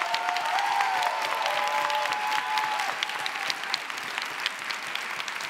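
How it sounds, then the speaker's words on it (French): An audience at a thesis-presentation contest final claps steadily and warmly for a prizewinner, a dense even patter of many hands with a few faint voices underneath. "on peut l'applaudir bien fort"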